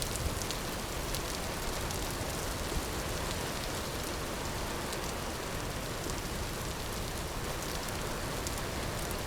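Rain falling in the video game Vintage Story, a steady, dense hiss of rainfall on surfaces that stays even and unbroken throughout, moderately loud with no voices.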